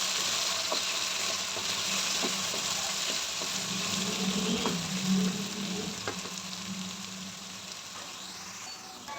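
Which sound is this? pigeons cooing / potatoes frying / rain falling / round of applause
potatoes frying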